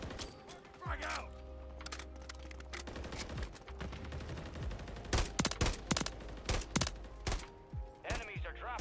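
Bursts of gunfire and explosions from a military shooter game crackle through a steady low rumble, with sharp loud volleys clustering toward the end; a voice speaks briefly over the action.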